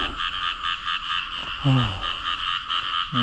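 Frogs croak repeatedly in the rain during a night hunt for frogs, their layered pulsing calls steady and fairly loud against a constant wash of rainfall and insect-like background drone.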